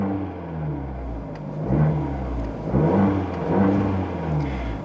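A Fiat 500 Abarth engine idles with a low rumble, then revs in a few quick blips that rise and fall, close by.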